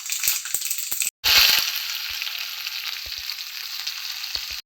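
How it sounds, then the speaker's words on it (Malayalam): Shallots, curry leaves and dried red chillies crackling in a hot tempering for a curd chilli dish, with sharp pops, a brief cut, then a bright sustained sizzle, no voices. "ഇതാ ചെറിയ ഉള്ളി കറിവേപ്പില വറ്റൻമുളക് ഇത് പൊട്ടലഴിഞ്ഞിട്ട് ഇത് ഇതിലേക്ക് ഇട്ട് കൊടുക്കാം"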